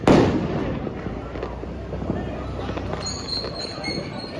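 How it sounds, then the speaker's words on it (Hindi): Diwali firecrackers bursting outdoors in quick irregular succession, a loud close crack at the start followed by a continuous crackle of smaller pops and distant bangs, with high whistling fireworks shrieks joining later. "गाइस यहाँ पटाखे से पटाखों में लड़ाई बज रही है।"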